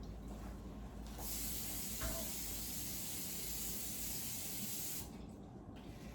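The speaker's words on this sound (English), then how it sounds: "Now we're going to take our baking spray" Baking spray with flour in it hisses from a can into the inside of a cake pan, a steady close spray lasting several seconds with no talk over it.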